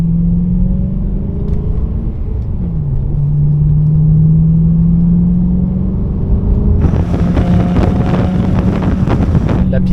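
A naturally aspirated BMW M3 of about 420 hp with aftermarket valved silencers drones steadily from inside the car, its engine tone rising and dipping, then a rougher, rasping exhaust burst cuts in late under wind noise.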